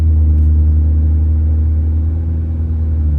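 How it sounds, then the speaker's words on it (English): Steady low rumble of a truck on the road on Venom Power 265/70/17 tires, deep exhaust drone blending with constant tire noise, loud and unbroken throughout. "My exhaust seems to overtake the noise of the tires."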